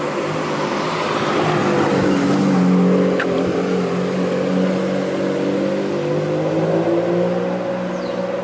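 A powerful supercar engine starts up, revs and holds a loud, throaty drone, pitch rising and falling over several seconds, close by with no speech.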